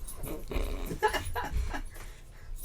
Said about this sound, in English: There's a dog that has just joined the podcast.